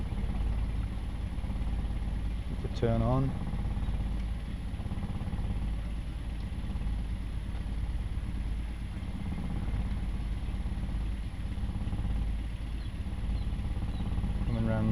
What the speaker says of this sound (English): Engine in neutral.